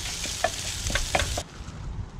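Rice for a seafood paella with whiting, red mullet and mussels cooks in a pan with a steady low sizzle, broken by a few brief scraping stirs; close and moderately loud, with no voices.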